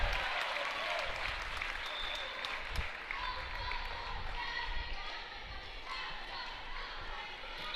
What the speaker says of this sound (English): Crowd is good. Getting even bigger.